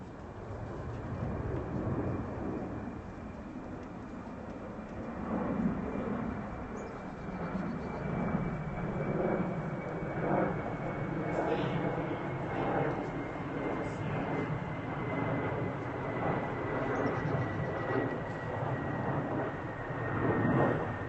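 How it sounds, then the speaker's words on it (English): A plane passes overhead at Arlington National Cemetery on Veteran's Day, a steady broad roar filling the whole stretch, with people talking faintly beneath it. "I was waiting for the plane to go by."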